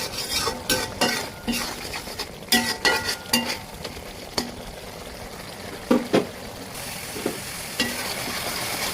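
Spice masala for beef bhuna sizzles in oil while a spoon scrapes and stirs the pan in repeated knocks and clatters, close by over a steady low frying hiss.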